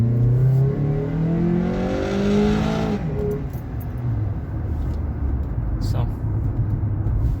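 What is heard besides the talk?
car engine revving with throttle pedal controller in race mode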